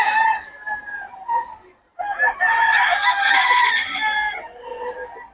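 Farmyard chickens cluck nearby, then a rooster crows loudly and at length, the call trailing off over ongoing clucking.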